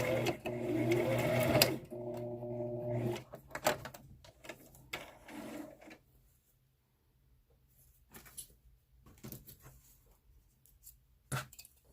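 Sewing machine backstitching the end of a seam on an adult-sized fabric face mask: a short close motor whir for a couple of seconds, then handling clicks and quiet rustling, with a voice speaking briefly.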